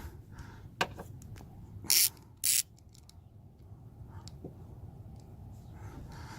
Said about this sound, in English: A little extension to give me clearance, and a 1/4 ratchet.